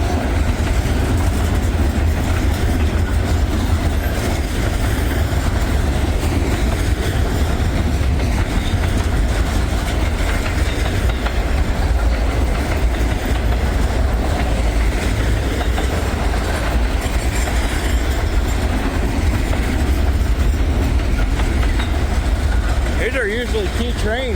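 Freight train rolling past on rails, a continuous loud rumble with steady wheel clatter and low engine drone filling the whole stretch, close to the listener.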